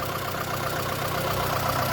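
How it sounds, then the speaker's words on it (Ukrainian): A 2006 VAZ Lada 2110 with a 1.6 eight-valve petrol engine idles steadily, an even low rumble with a fine regular pulse, close and alone. "Це ось восьмиклапаний моторчик. Працює як годинничок."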